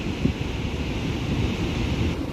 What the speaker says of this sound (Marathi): आज भरती आहे आणि त्यामुळे लाटा खूप मोठ्या मोठ्या लाटा आहेत